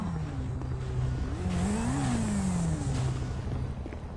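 A motorcycle engine revs up and then eases off, its pitch rising and falling in a steady hum close by.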